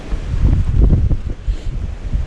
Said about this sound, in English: But it is windy up here.